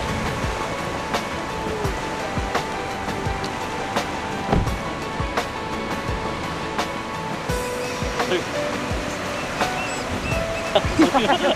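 Ocean surf washing around the Devil's Punch Bowl, a collapsed-roof sea cave on the Oregon coast, at low tide: a continuous, loud broadband wash with scattered crackles and splashes, steady throughout.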